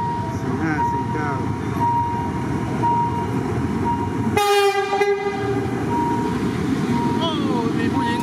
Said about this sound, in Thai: ตัดหน้าไปแป๊บหนึ่งครับเราชักหวีดซะดังเลย